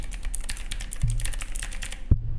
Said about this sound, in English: So it's a mechanical keyboard. So let me show you guys how it sounds.